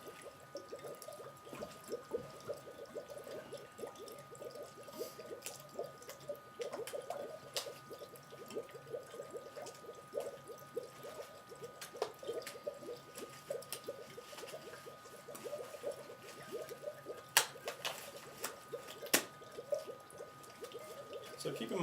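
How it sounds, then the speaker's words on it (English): A balloon holding dry ice is submerged in a warm water bath, giving continuous soft bubbling and gurgling with small splashy pops and a faint hum, quiet and close. "submerge it into this warm water bath that we have prepared"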